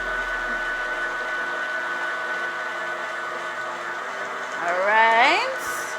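An electric mixer whirs steadily through carrot cake batter after vanilla is added, a constant close motor drone that swells briefly near the end as a voice speaks.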